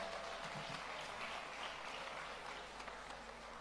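A seated audience at the MBGN 2021 beauty pageant claps for Senator Ben Murray Bruce in a steady, continuous round of applause, fairly faint and diffuse throughout.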